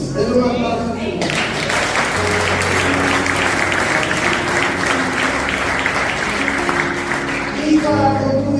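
Sustained congregation applause in a Spanish-language church Bible school service, a dense steady wash of clapping lasting most of the stretch, with voices and music faintly underneath before fading into speech at the end.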